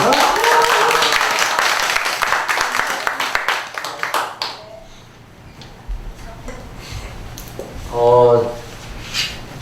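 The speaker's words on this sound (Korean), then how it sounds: "우리 김기천 농부님 우리 박수로 모셔주시기 바랍니다." An audience claps to welcome a speaker, Kim Gi-cheon, a village head who returned to farming, at a lecture event. Dense applause fills the first four seconds and then fades, with speech nearby.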